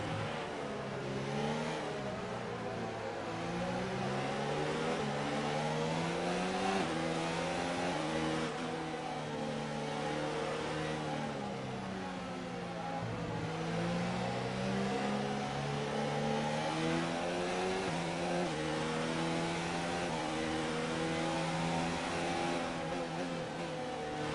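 High-revving Formula 1 racing car engine from the F1 2019 video game, a continuous loud mid-pitched drone with harmonics sweeping up and down through gear changes as the car pulls away, with no voices.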